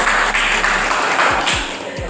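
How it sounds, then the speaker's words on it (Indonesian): A class of students gives a short burst of applause after a presentation in a teacher-training session, dense clapping filling the whole two seconds at a fairly close, steady level. "Tepuk tangan untuk Fafa."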